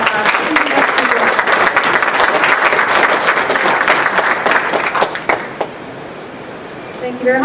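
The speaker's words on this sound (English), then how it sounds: "we could have one final round of applause for our guests" A final round of applause for guests and guest speakers at an alumnae panel event: a loud, dense crowd clapping for about five seconds, then fading quickly into quieter room noise.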